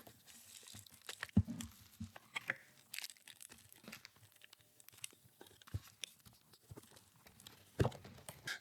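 The box of a Nimbleback LTC NB681 mechanical keyboard is opened up close, with irregular crinkling, tearing and crunching of packaging and scattered sharp clicks and thumps against a quiet background.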